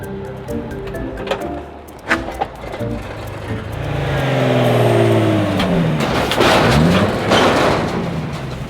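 A drift car sits idling roughly, then its engine revs up into a loud, sustained rising roar that swells and wavers for several seconds, close by with no talking.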